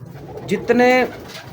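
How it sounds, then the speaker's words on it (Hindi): A big, sturdy breeder pigeon coos once, a short clear rolling call close by, with faint background noise and a brief voice before it. "बड़ा तगड़ा कबूतर है।"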